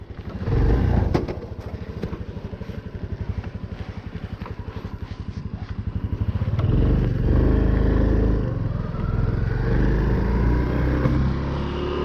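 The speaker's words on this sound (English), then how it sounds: "Time to ride the bike." A Honda Cross Cub 110 motorcycle engine runs close by, a steady low putter that swells louder partway through as it revs and pulls away, then holds a strong, even drone.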